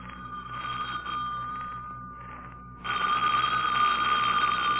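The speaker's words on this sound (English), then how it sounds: "Don't answer that, Lamont." A telephone bell rings in steady bursts in a 1946 radio drama, a bright, continuous trill that pauses briefly and then resumes louder, heard alone with no voices.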